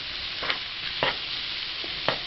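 Peppers and mushrooms sauté in a pan for a Cajun shrimp dish, a close, steady sizzle broken by three or four soft stirring scrapes at an even pace, with no voices.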